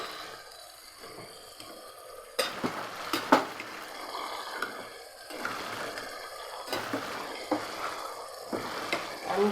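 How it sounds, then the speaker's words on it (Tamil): Quiet bubbling and sizzling from a pot on the stove, with occasional clinks and scrapes of a utensil against metal. "இந்த தண்ணி கொதிக்குது."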